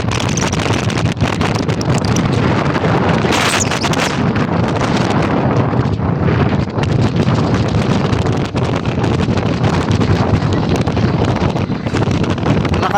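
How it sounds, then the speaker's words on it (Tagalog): Strong wind buffets the microphone outdoors during heavy fog in Pasay, a loud, continuous roaring rush with gusty swells that lasts the whole time. "Lakas pa ng hangin."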